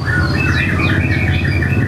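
A small caged bird, kept in a karamba enclosure, chirps in quick repeated high tweets close to the mic over a loud, steady low background hum.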